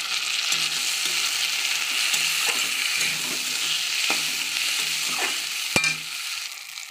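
Onions and chopped tomato frying in a pan, a continuous close sizzle with soft spatula scrapes recurring every second or so and one sharp knock near the end.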